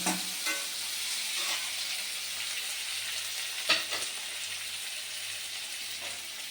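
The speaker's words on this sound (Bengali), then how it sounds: "পেঁয়াজগুলোকে আমি লাল লাল করে ভেজে নেব।" Chopped onions fry in oil with salt, giving a constant close sizzle with a few soft stirring scrapes and one sharper clink midway, and no speech.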